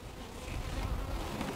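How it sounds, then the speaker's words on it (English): Honeybees buzz at an open beehive, making a continuous close, dense drone that swells slightly in loudness over a short stretch. "Caught me a bee under there."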